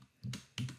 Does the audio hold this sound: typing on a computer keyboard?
yes